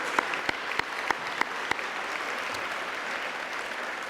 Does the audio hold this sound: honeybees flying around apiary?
no